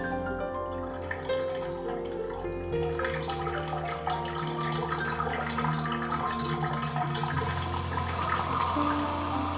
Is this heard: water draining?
yes